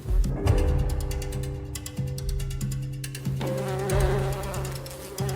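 Bees buzz steadily around a wild hive in African bush, a dense droning swarm close up, with tonal hums shifting in pitch as insects pass, no voices.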